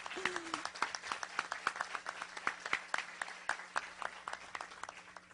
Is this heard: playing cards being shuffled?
no